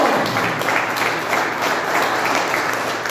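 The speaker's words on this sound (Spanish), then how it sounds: "den un fuerte aplauso a Jesús" Church congregation applauding during a Spanish-language worship service, a dense, steady burst of clapping that fills the space evenly for a few seconds with no voices standing out.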